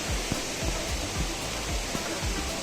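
Water rushes steadily over Chamadka waterfall in a broad, hissing wash, with soft low thumps recurring in a loose rhythm beneath the close, continuous flow.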